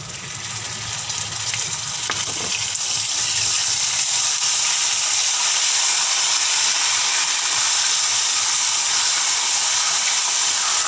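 Browned onions frying in a hot pan, a steady broad sizzle that holds at even loudness throughout, close and alone with no talk, a faint clink near the start.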